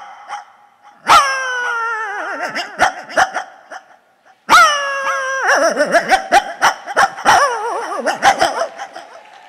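A mimic's voice imitates a dog barking from afar: two loud bursts of drawn-out, yelping barks and whines, each opening with a sharp cry and trailing into a ragged series of shorter yaps.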